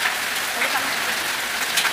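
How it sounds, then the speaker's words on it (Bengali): Rain falling steadily on a roof during a nor'wester storm, a dense, even hiss of drops drumming close by without pause. "দেখেন বৃষ্টি থেকে পানি পড়তে"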